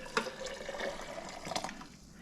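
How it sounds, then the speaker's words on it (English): Coffee pours into a pour-over brewer as a faint, close trickle and splash of liquid with a few brief louder spatters, then the sound tails off. "we're gonna put it in this pour over"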